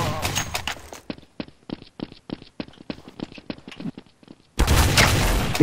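Counter-Strike: Source gunfire crackles as a rapid series of sharp, evenly spaced shots between bursts of louder game noise at the start and end.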